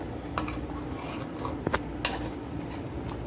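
Sohan halwa mixture stirred in a pan, with a steady scraping hiss under a few sharper spoon scrapes and clinks against the metal.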